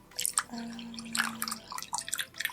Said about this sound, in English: you're gonna take your water and you're gonna pour half a cup